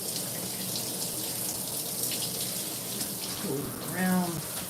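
Water streams steadily from a faucet while hair is rinsed of burgundy box dye and conditioner, a continuous close gushing hiss with a brief voice near the end.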